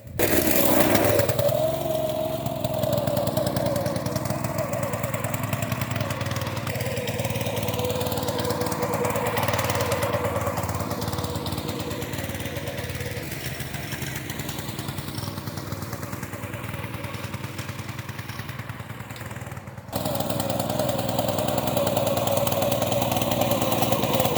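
A small petrol engine, a Honda GX200, runs steadily at a buzzing, even pitch for a long stretch, close by, chain-driving a dirt bike, with a brief dip before picking back up.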